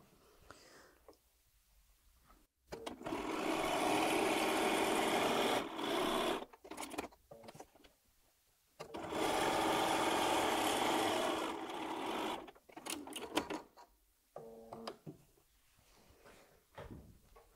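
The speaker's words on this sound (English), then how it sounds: "I'm going back over to the sewing machine, and I'm going to sew 1/4 inch away either side of my pencil line." A sewing machine stitches quilt blocks, running a quarter inch either side of a pencil line for a jelly roll quilt; two long steady runs of motor whir separated by brief pauses and fabric handling, close and alone.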